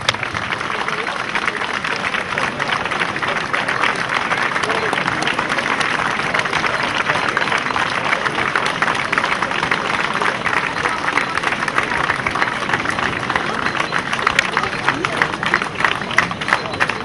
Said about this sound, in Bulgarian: Нека да подкрепим с аплодисменти неговите усилия.